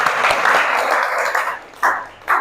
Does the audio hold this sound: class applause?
yes